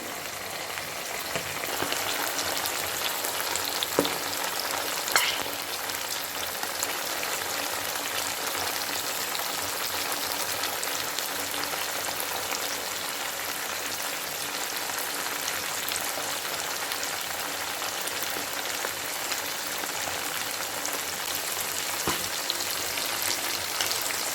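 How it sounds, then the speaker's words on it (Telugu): Chicken liver and heart frying in a pan give off a dense, continuous crackling sizzle like heavy rain, loud and steady throughout, with a couple of faint knocks and no talk. "మంచిగా ఫ్రై అయిపోతున్నాయి ఇవి"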